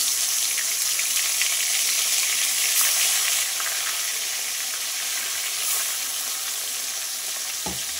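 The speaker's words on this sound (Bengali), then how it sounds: "মাছগুলো ভেজে নিই" Bhola fish pieces frying in hot oil give a steady, loud sizzle with broad crackling hiss throughout, a few brighter pops, and a short clink near the end; no talking.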